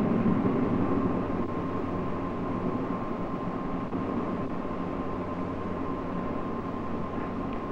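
An F-105 jet aircraft taxis, giving a steady, moderately distant whine and roar with a constant droning tone. The sound holds without change for several seconds and no voices are heard.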